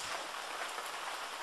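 Heavy rain pours outside, a steady, dense hiss with no break or change for the whole moment and no voices.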